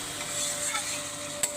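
Spices stirred and sautéed in a hot pan after chilli powder and salt go in, a steady soft sizzle with light scraping and one sharp clink near the end, close and alone.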